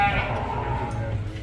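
Sheep bleating at a 4H sheep show, a drawn-out wavering bleat rising over a busy arena with crowd murmur and some talk underneath.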